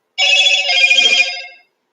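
A mobile phone inside a camper rings once, a single loud electronic trill lasting about a second and a half, close and alone with no voice over it.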